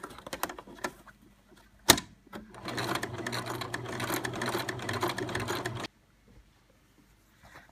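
A sewing machine sews straps onto a bag in one steady run of rapid stitching lasting several seconds, preceded by a few clicks and a sharp knock, then stopping into near silence.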